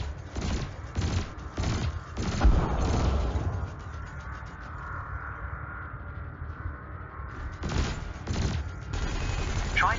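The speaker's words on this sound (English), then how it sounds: "your laser will fire until the capacitor is depleted, at which point it will need to recharge" Ship lasers and cannons fire in Elite: Dangerous in loud, rapid bursts, with a stretch of repeated shots at the start, a quieter humming lull in the middle, then more volleys toward the end.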